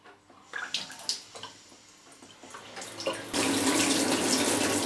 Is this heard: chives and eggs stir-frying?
no